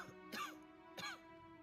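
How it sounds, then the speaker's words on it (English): Two short, harsh coughs from people in the Pillars of Eternity 2: Deadfire game, evenly spaced and fairly quiet against a soft background. "I hear people coughing in the back."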